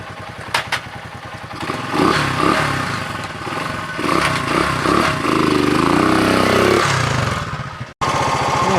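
A 1967 Honda CL90 motorcycle with a clutch issue, its small engine chattering loudly up close, revving and surging in bursts before cutting off abruptly near the end.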